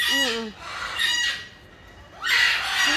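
A talking bird gives shrill, squawking calls in three bursts with short pauses between, loud and close.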